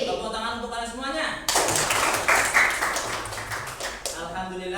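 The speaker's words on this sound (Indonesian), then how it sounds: "Tepuk tangan untuk kalian semuanya." Children in a school classroom clap for several seconds in a burst of quick, dense claps after a teacher's voice, with speech before and after.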